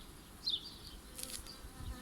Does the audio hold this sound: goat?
no